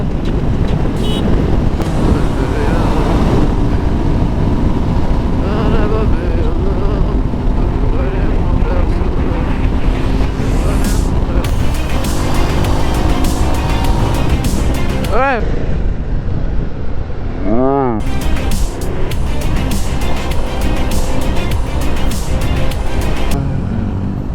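Loud rushing wind buffets the microphone over a roaring motorcycle engine while riding at around 120 in Nepal, with traffic passing and a voice speaking now and then.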